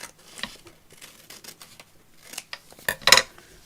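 Scissors snip through paper along the edge of a craft tag pocket, a series of quiet close cuts ending in a louder burst of crisp paper handling.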